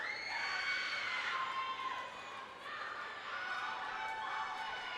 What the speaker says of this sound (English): The teammates are doing a good job of cheering each other on and bringing up the energy